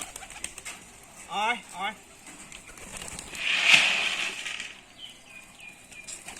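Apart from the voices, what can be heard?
Rajshahi Giribaz pigeons flapping and cooing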